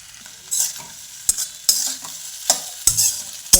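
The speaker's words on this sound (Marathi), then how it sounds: "हे दोन मिनटं असं हलवून घ्यायचं भिजवलेला साबुदाना त्याच्यात टाकून घ्यायचा" Soaked sabudana khichdi stirred in a pan, a soft sizzle punctuated by sharp scraping and tapping strokes of a spoon against the metal, close and irregular.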